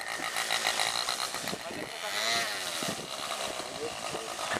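Small gasoline engine of a model boat on water, buzzing and rasping like a motorcycle, close and fairly loud with pulsing revs, while people chat nearby.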